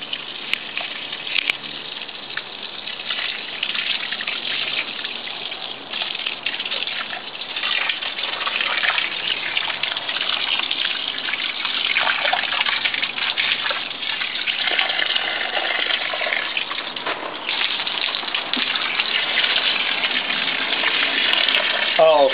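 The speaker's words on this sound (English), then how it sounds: "there's nothing wrong with spraying off the foliage" A garden hose sprays water onto the leaves of a Meyer lemon tree in a steady, loud, continuous gush, while a voice talks over it.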